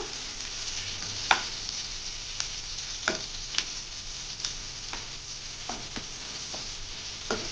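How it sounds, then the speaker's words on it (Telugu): Onions and crushed garlic fry in a pan with a steady broadband sizzle, broken by a few sharp utensil clicks and scrapes as they are stirred; no one speaks. "బాగా ఫ్రై చేసుకోవాలి ఆనియన్స్ బాగా మనకి మగ్గాలన్నమాట"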